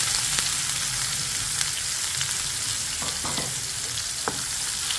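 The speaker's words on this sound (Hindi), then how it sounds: "तो प्याज को जो है गोल्डन कलर होने तक का हम अच्छे से भून लेंगे या फ्राई कर लेंगे।" Chopped onion frying in hot oil with whole cumin seeds and two bay leaves, a steady dense sizzle throughout with a few brief stirring scrapes near the end; no talking.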